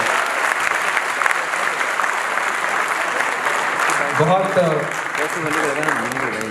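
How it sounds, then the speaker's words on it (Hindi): An audience at a live gathering claps loudly and steadily, the applause holding without a break, while a voice speaks over the last couple of seconds. "मुझे लगता है कि एक और जोर की ताली बजनी चाहिए अशोक जी को।"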